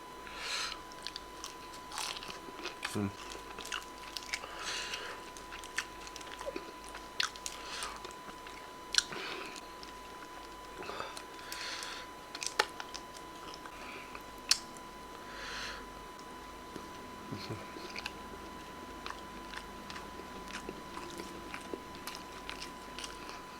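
Close-miked chewing of KFC fried chicken breast: repeated crunchy bites and wet mastication, steady and intimate in a quiet setting, with no talking.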